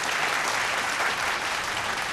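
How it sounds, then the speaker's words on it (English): A studio audience at a televised singing competition claps steadily for a contestant, a dense, even wash of many hands, loud and sustained with no voices over it. "another round of applause for our Colgate Most Improved contestant"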